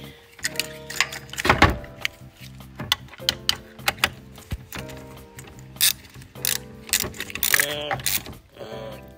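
A ratchet tightening a new nut on a Ford Explorer alternator, close, loud irregular clicking and ratcheting bursts with metallic clanks, interspersed with quieter gaps and some mechanical rattling.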